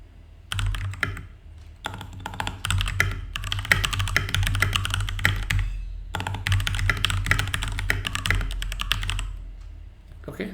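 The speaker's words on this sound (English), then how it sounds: "I'm going to show you the ASMR of my Keychron K2 V2 keyboard" Brisk typing on a Keychron K2 V2 keyboard fitted with brown switches, dense clacking keystrokes in fast bursts with a couple of short pauses, close and alone without voices.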